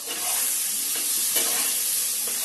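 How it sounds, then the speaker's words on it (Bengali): Potatoes sizzle steadily in a frying pan, a dense, even hiss with a few soft stirring touches, close and continuous without speech. "আলু ভাজতে নিয়েছি"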